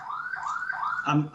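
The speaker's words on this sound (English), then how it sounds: "I have an alarm just going off" A nearby electronic alarm wails in rapid, repeating rising sweeps, steady and fairly loud, with a brief voice-like sound breaking in near the end.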